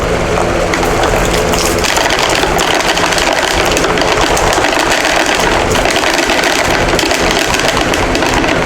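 A box fan blows hard and steadily while chaff is winnowed off dry beans, producing loud, even broadband rushing air with a low motor drone, unbroken for the whole stretch.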